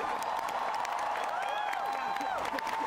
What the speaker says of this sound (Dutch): gigantisch groot applaus voor deze, al deze mensen